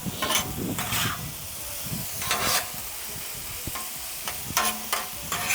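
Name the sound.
mixing peppers, onions and mushrooms frying on griddle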